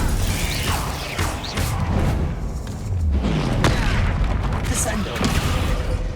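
In Hogwarts Legacy combat, a Confringo fire spell goes off amid a dense clatter of game effects, with deep booms, thuds and sharp cracks layered over continuous mechanical noise and voices.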